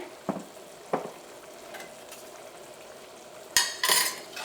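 Chickpea curry stirred in a pan, a few scattered scrapes and clinks over a faint simmer, then louder scraping strokes near the end, quiet and without talk.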